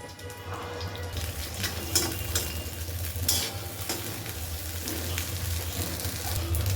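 Frying in generous mustard oil in a pan, a close steady sizzle with intermittent stirring and scraping sounds and no talking.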